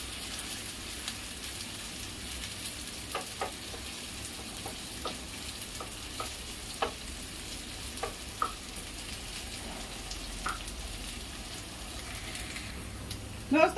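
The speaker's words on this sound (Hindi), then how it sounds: "तेल अच्छी तरह गर्म हो चुका है। इसमें मैं भिंडी डाल रही हूँ" Finely cut okra frying in hot oil crackles with a steady soft sizzle and scattered sharp pops, fairly quiet and close throughout.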